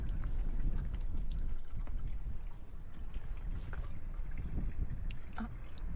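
Hot spring source water pours steadily at Kinugawa Onsen, a continuous close splashing wash of falling water with dripping texture, alone and fairly loud throughout.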